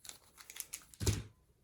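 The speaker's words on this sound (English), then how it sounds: "And we have some handy dandy plastic bags for all our" Plastic bags from a board game bundle crinkle close to the microphone, a soft rustling run ending in a sharper, louder crackle before fading.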